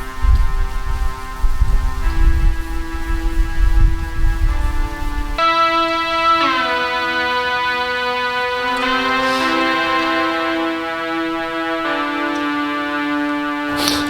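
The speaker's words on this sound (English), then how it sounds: "I brought a little Bose speaker, and let's record the synth in this little tunnel over here." Sustained synth chords played through a small Bose speaker ring out in a small echoing tunnel, changing every few seconds, with low rumbling noise early on.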